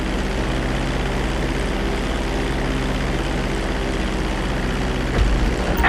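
An airplane in GTA 5 on PS3 descends toward a runway to land, its engine a loud, steady, close drone throughout, with a brief thump near the end.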